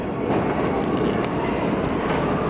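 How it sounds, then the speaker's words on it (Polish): A Warsaw metro train rumbling on the new line, a steady dense roar of wheels and motor close by, continuous with no pauses. "patrzcie, nowa linia metra"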